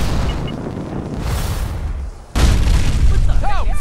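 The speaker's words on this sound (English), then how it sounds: "That explosion came from the old CIT ruins." In Fallout 4, a sudden loud boom bursts out about two seconds in and rumbles on over the game's background noise, following a quieter stretch of game sound.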